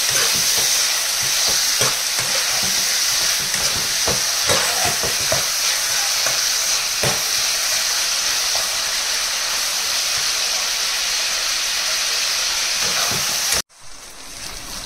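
Mutton frying in a little oil with salt, stirred continuously in the pan: a loud, steady sizzle and hiss with scraping stirring strokes, ending in a sudden brief break before the sizzle resumes.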